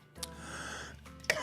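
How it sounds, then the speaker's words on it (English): A single dry cough from a man on a live stream, short and close, with a second sharp burst near the end and no talk around it. "It's almost a dry cough, really."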